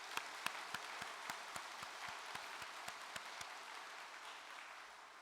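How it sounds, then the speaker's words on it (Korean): Applause of encouragement from a church audience, faint and distant, with a soft wash of clapping punctuated by a few sharper individual claps in a loose, roughly regular beat. "큰 격려의 박수를 보내주시기 바랍니다"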